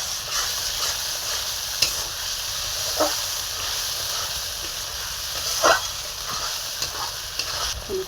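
Tomato, yogurt, ginger, garlic and onion fry together for a Bengali chicken kosha, a constant moderate sizzle punctuated by occasional spoon scrapes and clinks against the pan.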